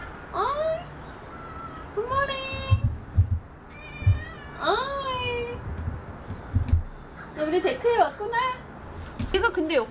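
A stray cat meows repeatedly, several drawn-out plaintive cries spaced through the clip, close by, with soft thumps and rustling in between.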